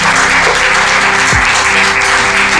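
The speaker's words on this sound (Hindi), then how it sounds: "ताली दो उसके।" A church congregation claps together, a steady dense wash of applause filling the whole stretch at close, loud level, with musical tones sustained faintly underneath.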